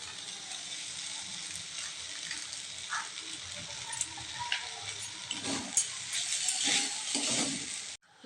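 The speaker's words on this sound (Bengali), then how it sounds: "আলুটা খুব ভালোভাবে ভাজা ভাজা করে নিতে হবে" Grated potato fries in a pan with salt and ginger paste for a spring roll filling, making a soft, steady sizzle, with stirring scrapes and clatters growing louder toward the end.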